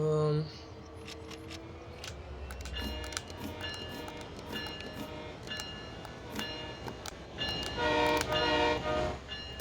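Freight or passenger train in the Train Sim World 6 CN Ontario line simulation, rolling along with a steady rumble, rail clatter and mechanical tones throughout, fairly loud and continuous, with a voice talking over it.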